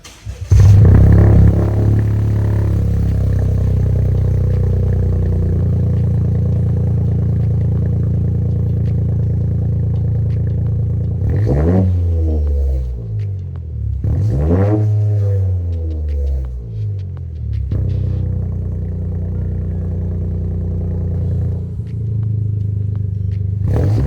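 Toyota GR Corolla engine with its exhaust and resonator pipe, starting up and idling with a deep steady rumble, broken by several sharp revs that climb and fall, loud and close with no talk.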